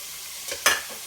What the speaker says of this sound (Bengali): এখন আমি এই চিংড়ি মাছটা এটাতে দিয়ে দিলাম